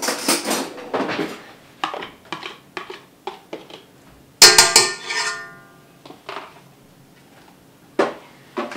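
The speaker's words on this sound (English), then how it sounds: "I'm gonna grab a spoon to get all the butter out." Metal spoon clinks and scrapes inside a container while butter is scooped out for baking, with sharp close taps in irregular bursts, one louder ringing knock, and quiet gaps between.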